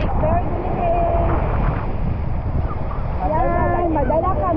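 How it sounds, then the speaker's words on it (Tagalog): Sea waves at Hagonoy Island, Britania, Surigao del Sur, wash steadily under heavy wind buffeting on the microphone, with people talking and calling out over the constant surf. "Nak, madala ka sa alon na"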